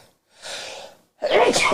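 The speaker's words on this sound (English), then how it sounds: "I gotta sneeze" A sharp inhaled gasp followed by a loud, explosive sneeze, close up and brief.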